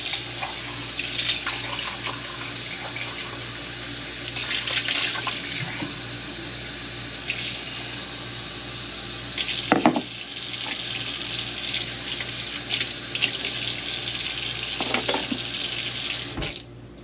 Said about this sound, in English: So we're going to fill them up, same water.